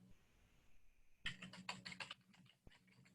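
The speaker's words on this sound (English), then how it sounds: "So you start typing in the name" Quick bursts of typing on a computer keyboard while entering a mushroom name into a search field, a close rapid cluster of key clicks followed by a few slower taps, with no talk.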